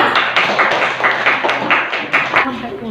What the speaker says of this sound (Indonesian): ayo tepuk tangan untuk kita semua